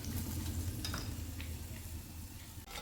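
Banana snacks frying in hot oil give a steady, dense sizzle and crackle, close and continuous throughout, with a few soft stirring clinks and no voices.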